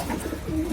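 A brief, soft coo from a White Golden pigeon, a young adult bird in a breeding pair, heard close by against a steady background hiss.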